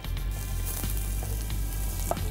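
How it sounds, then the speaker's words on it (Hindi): Ginger sautéing in hot oil for a chicken salad, a continuous moderate sizzle with light crackles over a low background hum. "उसके लिए पहले हम थोड़ा सा तेल डालेंगे, जिसमें हम सोते करेंगे garlic, ginger और chicken"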